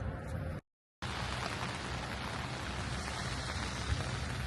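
Steady rain falling on a rainy day in Savannah, Georgia, a dense continuous wash of drops on hard surfaces, close and fairly loud, broken by a brief gap of silence near the start.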